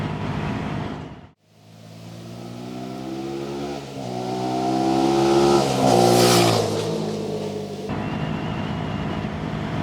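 A 2022 Sinnis SM-R 125 motorcycle's 125cc engine revs up with rising, stepped harmonic whine, loud and close from the rider's position, dropping briefly before climbing steadily through the gears and then settling.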